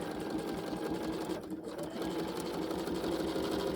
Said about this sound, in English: I'm just going to sew the edge of my piece there.